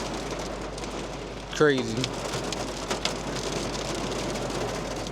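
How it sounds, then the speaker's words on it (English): Heavy rain pours down steadily in a dense, even hiss, with a short bird call and a brief spoken exclamation over it. "Right before I had to shoot it would pour down like this."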